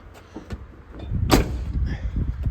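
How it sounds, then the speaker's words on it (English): The door of an Oldsmobile Cutlass G-body car shuts with one solid thump in the middle, amid low rumbling background noise and a few lighter knocks. "Gbody door shuts."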